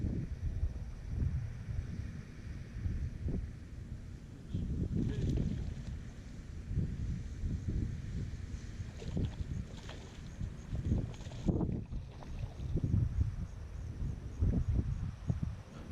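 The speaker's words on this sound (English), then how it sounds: "Another factor on this morning were the winds blowing 30 to 40 miles an hour out of the south." Strong south wind at 30 to 40 miles an hour buffets the open air over a pond during cold fall bass fishing, a steady rumbling roar with gusty bursts across the whole stretch.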